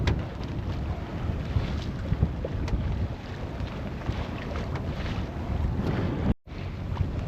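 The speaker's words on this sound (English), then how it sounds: "right now we're sailing into about a 3 to 4 foot swell" Sailboat heading into long-period ocean swell of about 3 to 4 feet: steady rushing water and hull wash with heavy wind buffeting on the microphone, continuous and close, with one brief dropout near the end.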